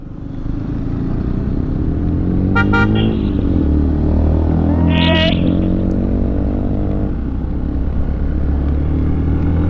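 A motorcycle from a bikers' group, which includes Triumph Tigers, roars past up close on a road near Kalasa with a steady engine drone, and two short bursts of horn honking stand out over the noise.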